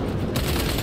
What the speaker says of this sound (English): Who's throwing grenades at me, bro?